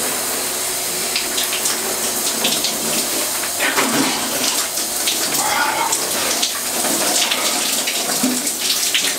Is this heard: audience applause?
no